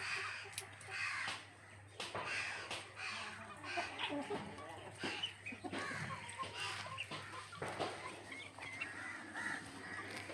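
Chickens at a small village poultry farm in Kerala, clucking and calling in short bursts near and far across the whole stretch, with a rooster-like call among them and people talking faintly in the background.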